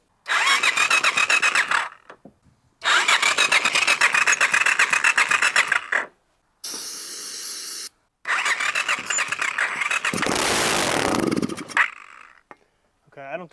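A homemade 50 HP F150 Power Wheels engine cranks in several long, loud bursts separated by pauses, turning over without catching.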